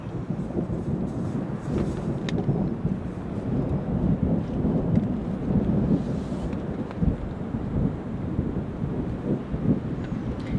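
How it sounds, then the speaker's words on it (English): Low rumbling of thunder from a morning storm somewhere nearby rolls continuously beneath wind buffeting the microphone at a tarp and tent camp by a rock wall, with no voices. "It's storming out there somewhere around us. I can hear thunder this morning."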